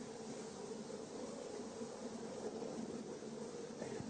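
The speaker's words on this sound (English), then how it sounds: "Okay, so I got a bunch of bees on the front corner there." Honey bees clustered on the front corner of a hive box hum in a continuous, even, faint buzz with no voices over it.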